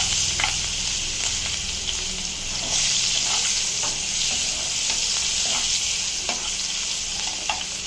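Onions sizzling and frying in a pan on a gas stove, a steady close hiss with occasional stirring clinks and scrapes, no talking.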